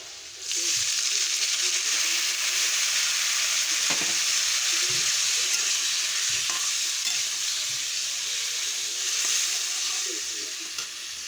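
Spice paste of cumin, chili and turmeric powders, salt, tomato and green chili sizzles steadily in a pan while being stirred, a continuous close frying hiss with occasional soft scrapes.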